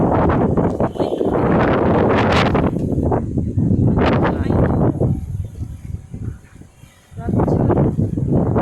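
Strong wind buffets the microphone in loud rumbling gusts that ease briefly in the middle and then surge again.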